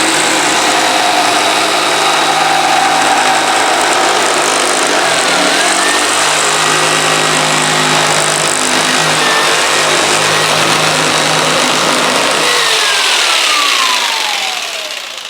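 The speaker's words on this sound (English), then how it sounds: "there's my curved cut, and that's how we use the jigsaw" A jigsaw makes a curved cut, its loud steady motor buzz running almost the whole time with a shifting pitch as the blade follows the line, then tailing off at the end.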